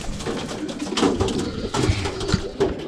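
A pigeon in a cage coos in low, repeated throaty murmurs over a continuous noisy background, close and moderately loud.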